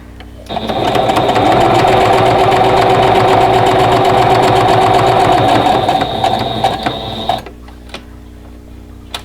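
A sewing machine runs steadily, stitching a half square triangle quilt block, its fast even whir lasting about seven seconds before stopping abruptly, close and loud.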